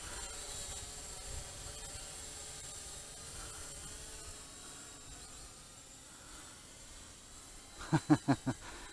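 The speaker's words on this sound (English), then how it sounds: "That's all wind right there. That's how hard the wind's blowing." Strong wind gusts roar steadily and buffet outdoors while a small toy quadcopter drone flies, a constant low rumbling wash with four quick rhythmic thumps near the end.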